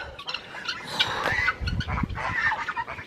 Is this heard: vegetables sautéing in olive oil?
no